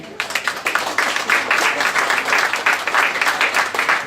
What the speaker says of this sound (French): Alors là, on peut l'applaudir très fort.